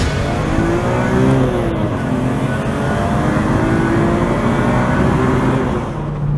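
A Volvo S60R manual sedan's engine drones steadily and loudly while driving, with a sustained rev that holds and gently shifts in pitch, no voices over it.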